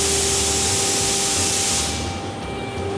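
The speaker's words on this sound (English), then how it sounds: "oh there goes the air compressor." A shop air compressor runs with a loud, steady hiss and a constant mechanical hum, then the hiss drops away partway through while a lower drone continues.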